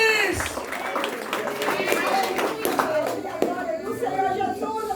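At a church sermon, a congregation claps under an excited preacher's voice; scattered hand claps and crowd murmur sit beneath the speech throughout.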